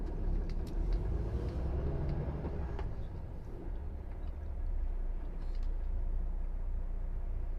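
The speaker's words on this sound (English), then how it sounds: "at the moment I'm stuck in the queue of traffic anyway" A car idles while waiting in a traffic queue on a drive from Lichfield to Stoke, giving a steady low engine and road rumble with faint distant traffic and no voices.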